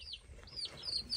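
A bird that looks almost like a partridge gives a few short, high chirping calls on a homestead, faint and close together within about a second.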